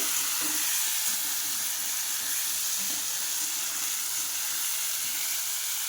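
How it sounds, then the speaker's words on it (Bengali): Potato and pointed gourd fry in a pan with a steady, close sizzle that fills the whole stretch, broad and even, with faint stirring clicks beneath. "দেখো প্রায় লাল লাল করে ভাজা হয়ে যাচ্ছে"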